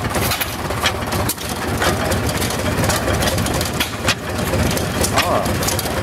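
A hit and miss stationary engine runs close by with a loud, steady low chugging, punctuated by periodic firing thumps, and people talk faintly nearby.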